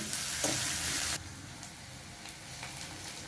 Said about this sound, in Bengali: এবার দুটো কাঁচা লঙ্কাও ছেড়ে দিলাম এর মধ্যে। এগুলো ভাজা ভাজা হোক।